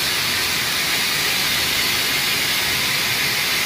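Refrigerant gas hissing steadily from a leaking evaporator in an ice factory, a loud, unbroken broadband hiss with no voices.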